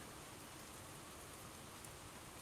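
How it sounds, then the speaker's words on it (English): Steady rain falls throughout, a soft, even hiss of drops at moderate distance with no voices and no breaks. "Stupid rain's gonna mess up my tuning."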